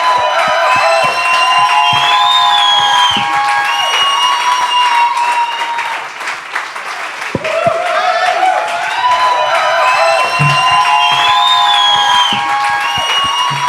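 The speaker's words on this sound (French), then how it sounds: "j'aimerais ça qu'on leur donne une bonne main d'applaudissement" A crowd at a show in Val-d'Or greets guests Nick Audet and Laurent Paquin with sustained, loud applause and cheering, with whoops and music running underneath throughout.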